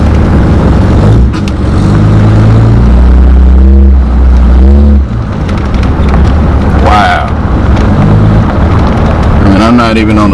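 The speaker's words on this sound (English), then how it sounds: "Let's give it a spin around the block. And just listen to it, guys. Sounds like a totally different truck." A modified 2005 Cummins diesel pickup truck drives around the block and accelerates, its engine a loud, deep rumble close to the microphone that rises and then settles as someone talks over it.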